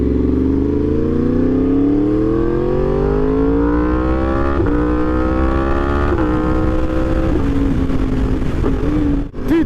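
Suzuki GSX-R1000 liter bike accelerating hard through rising revs, with quick-shifter upshifts at about 4.5, 6 and 7 seconds each briefly dipping the pitch; loud and close, engine roaring continuously with no talking.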